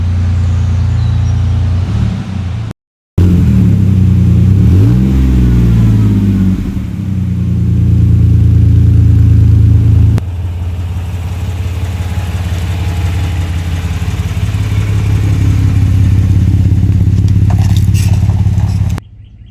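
A car fitted with a cheap $17 cat-back exhaust revs loud and close, its engine rising and falling through several throttle blips over a deep idling rumble.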